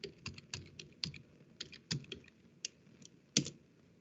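Fingers tap out a command on a computer keyboard, a quick irregular run of crisp clicks with short pauses and one harder final keystroke, close and fairly quiet with no voices.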